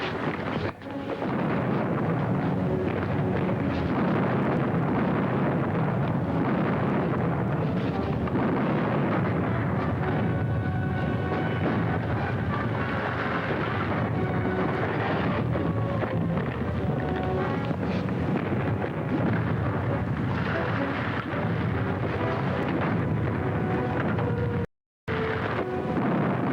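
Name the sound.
pirate ship cannon fire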